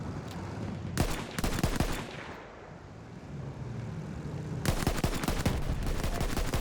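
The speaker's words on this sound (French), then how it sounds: "Ouais, vous pouvez quand même mitrailler avec le truc." Rapid machine gun bursts in Battlefield 1, loud clattering volleys that pause briefly and then resume, with rumbling battle noise and aircraft drone filling the gaps; no talk.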